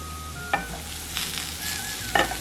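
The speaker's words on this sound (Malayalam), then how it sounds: "ഇതൊന്ന് നന്നായി മിക്സ് ചെയ്തതിന് ശേഷം അരിഞ്ഞു വെച്ചിട്ടുള്ള ബീട്രൂട്ടും കൂടെ ചേർക്കുക." Chopped beetroot and spices being stirred in a hot pan, a soft steady sizzle broken by a few brief scraping strokes of a spoon, heard close up with no voices.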